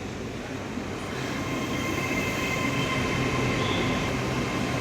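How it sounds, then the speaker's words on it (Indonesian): A long train pulls into a station on the line from Reading toward Oxford, a steady close rolling rumble with a faint brake whine building slightly throughout; no talk. "Pas banget keretanya baru datang menuju Oxford."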